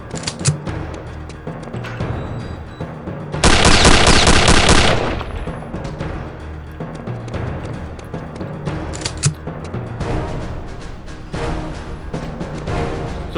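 Bursts of rapid machine gun fire in the video game Return to Castle Wolfenstein, with one long, loud sustained volley in the middle and shorter scattered shots around it.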